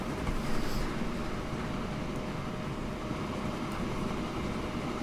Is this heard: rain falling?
no